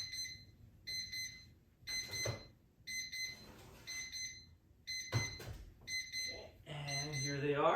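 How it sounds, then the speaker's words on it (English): A kitchen timer alarm beeps in repeated bursts while baking, fairly faint and regular, with rustling and a voice speaking near the end. "Well, the alarm is going off,"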